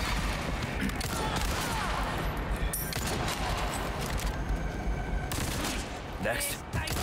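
Resident Evil 4 Remake combat: a steady, dense stream of gunshots and crackling fire fills the whole stretch, fading slightly near the end, with a voice talking underneath.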